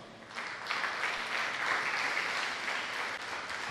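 A church congregation claps together during a sermon, a dense wash of clapping that swells in after a brief start and holds steady at moderate distance.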